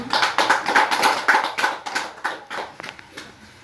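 A small group claps during a group guidance session, a brisk run of hand claps that thins out and trails off into scattered taps toward the end.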